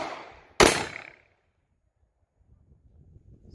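A single sharp, loud report from a Taurus Judge Public Defender Polymer revolver firing buckshot at a target outdoors, with a short decaying tail followed by quiet and faint low rustle.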